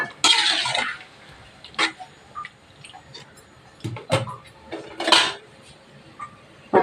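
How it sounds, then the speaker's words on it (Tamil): A metal lid clanks onto a pot of chicken liver chukka cooking on the stove, with several sharp clinks and rattles spread over a few seconds in a quiet kitchen. "ஒரு 10 நிமிஷத்துக்கு மூடி போட்டு வச்சிடலாம் நல்லா வேகட்டும்"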